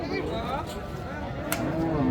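A Friesian dairy cow with calf at a busy rural cattle market moos in a long, low, drawn-out call close by, while buyers and sellers talk and bargain around it.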